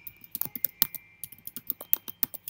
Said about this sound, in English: Why am I even typing?